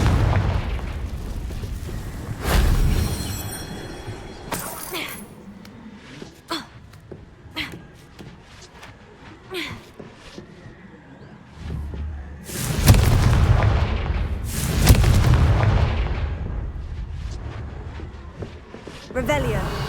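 Confringo blast spells explode in the video game Hogwarts Legacy, several loud booming bursts at irregular intervals with quieter magical effects and ambience between them.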